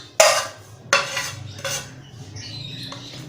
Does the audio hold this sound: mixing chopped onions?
yes